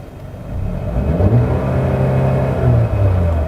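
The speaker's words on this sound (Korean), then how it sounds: "배기음 같은 경우에는 이렇게 정차 시에는 좀 잔잔하게 들려요" A 2021 Mercedes-AMG A 35 4MATIC exhaust burbles with a low, steady rumble while idling at a stop, swelling slightly in loudness, close by with no talking.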